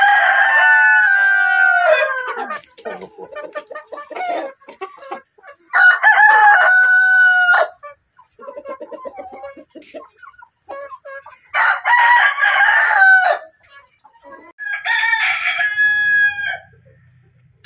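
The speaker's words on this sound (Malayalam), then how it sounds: "സാധാരണ കോഴികൾ തന്നെ." On a farm, ordinary chickens crow loudly and close in several long bursts, with softer clucking filling the gaps between them.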